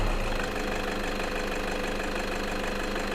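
A turbocharged engine runs steadily during a boost pressure test, a continuous mid-pitched drone with a faint knocking vibration and no voices.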